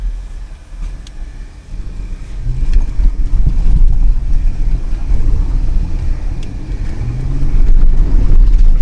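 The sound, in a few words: Jeep driving through sand in 4-wheel drive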